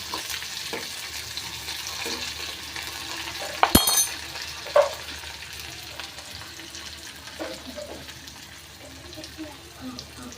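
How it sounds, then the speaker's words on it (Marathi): Curry leaves and onion frying in a pan and being mixed for a vaal bean curry, a low sizzle with a sharp utensil clank and scrapes, someone speaking intermittently over it. "कढीपत्ता कढीपत्त्याची पानं घालून घ्यायचे मिक्स करायचे"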